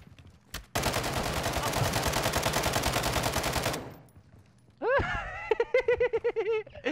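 A sustained burst of rapid automatic gunfire in DMZ Warzone rattles loudly for about three seconds and then stops, followed by a player's voice and laughter.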